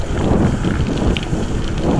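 Loud, steady wind roars across the microphone, a dense continuous rush with no talking.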